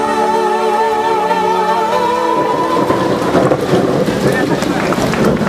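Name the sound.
rain and thunderstorm sound effect in school performance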